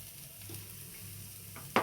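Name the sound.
fish omelette frying in a pan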